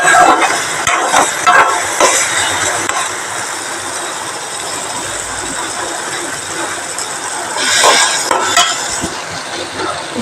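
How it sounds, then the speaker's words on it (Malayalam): Loud, steady sizzling of six eggs poured into a hot pan and frying, with scraping and clattering bursts near the end and no voices. "ഇനി നമുക്ക് ഇതിലേക്ക് മുട്ട ഒഴിക്കാം"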